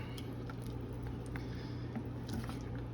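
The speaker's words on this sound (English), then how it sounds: "We just stir the cheese in good." Cheese being stirred into a pot of grits, a soft, wet, squishy scraping and sticky patter close by, quiet and continuous over a low background hum.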